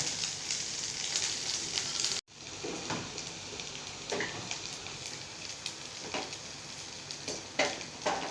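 Steady crackling sizzle of yam pieces frying in oil, with occasional stirring clatter and a brief gap of silence near the start.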